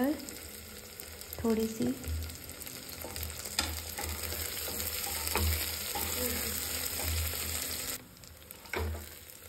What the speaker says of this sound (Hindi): आलू, क्योंकि आलू भी फ्राई हो जाएगा साथ में। अब इसमें डालेंगे गाजर